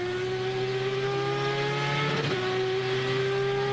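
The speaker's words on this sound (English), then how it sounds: "Listen to that RX-8 whistle along" A Mazda RX-8 race car's rotary engine whistles past at a Miami road race, a steady high-pitched tone that bends in pitch as it goes by, fairly faint and with no voices.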